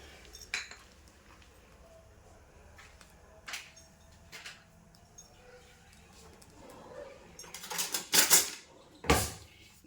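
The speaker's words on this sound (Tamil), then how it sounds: "ஸோ இதுதான் பார்லி. ஸோ இதை வந்து பேனுக்கு ஆட் பண்ணிடலாம்." Barley grains go into a cooking pan with light clinks and rattles, building to a louder clatter of metal and scattering grain near the end, with a voice in the background.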